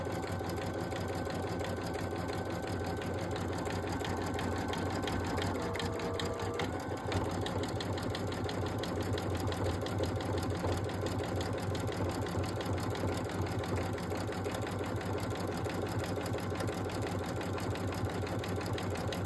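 A sewing machine stitches an apron, running steadily and continuously at close range throughout with a constant mechanical hum and rapid needle rhythm, alone without talk.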